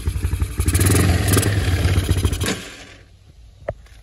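Vintage Harley-Davidson barn-find motorcycle engine running loud and close with a rapid, rough rumble and mechanical clatter, then stalling out and falling quiet, followed by a single brief knock.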